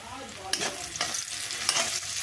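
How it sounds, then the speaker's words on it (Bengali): Onions fry and sizzle in a pan in cold weather, with a steady hiss broken by several sharp scraping strokes of a spatula stirring them, close up and free of talk. "এই যে পেঁয়াজ ভাজা হচ্ছে"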